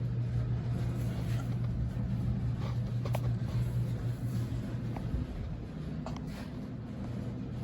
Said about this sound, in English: Okay, just finishing up the Scout here. Just out for a little test drive.